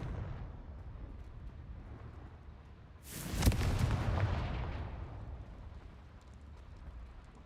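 A single Confringo blasting curse explodes in Hogwarts Legacy: a sudden loud boom with a rumbling tail that fades over several seconds above a low ambient hum.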